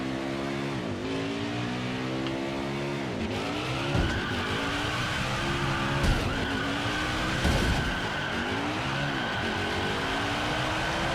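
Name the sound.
Ford Mustang race car doing a burnout in NASCAR Heat 5 video game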